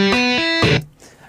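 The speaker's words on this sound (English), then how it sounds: "So that's playing all the strings open." A guitar picks its open strings one after another, each note ringing clearly, and then a final strum lets all the open strings sound together before fading out quickly.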